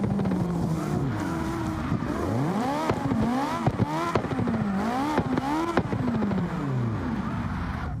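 A drift car practicing for a SLIDESTYLE qualifying event revs hard over and over, its engine pitch sweeping up and down as the tires squeal and skid in long, loud bursts.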